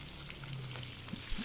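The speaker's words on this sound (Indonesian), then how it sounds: "Kemudian terakhir kita akan goreng ini ayamnya." Steamed chicken pieces frying in hot oil give a steady, soft sizzle with faint crackles and pops, close and continuous, no voices.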